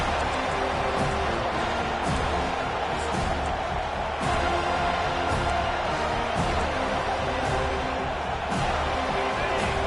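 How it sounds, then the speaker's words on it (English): Dense, steady roar of a stadium crowd at a college football game between SMU and FSU, loud and continuous throughout with scattered sharper bursts on top. "The roar of the crowd trying to fuel this defense"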